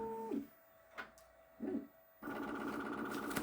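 Bambu P1S 3D printer running its calibration routine, emitting short whirring motor sweeps and tonal buzzes, then a sustained steady motor hum, quiet and close.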